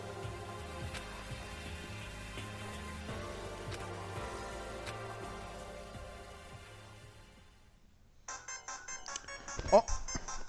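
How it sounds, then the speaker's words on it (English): A phone ringtone plays for an incoming call over background music and a voice, then a brighter tonal ringing pattern enters near the end after a brief lull. "It's my ringtone."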